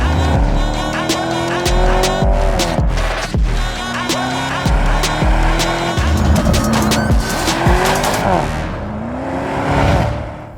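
An Audi RSQ8 Performance SUV with 640 horsepower is driven hard, its engine rising and falling through repeated revs and gear changes with tires squealing loudly throughout, close and intense.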